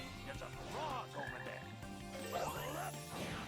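A frog croaks repeatedly in a forest stage of Knuckles' Chaotix, with quick warbling croaks layered over steady game music.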